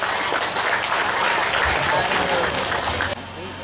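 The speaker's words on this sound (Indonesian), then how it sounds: "Tepuk tangan untuk kita semua" Audience applause in a parenting seminar hall at an Islamic boarding school in Palembang, a loud continuous wash of clapping that cuts down abruptly near the end, with speech mixed in.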